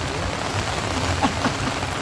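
Steady rain hisses evenly throughout, with a few slightly louder drops standing out against the dense wash.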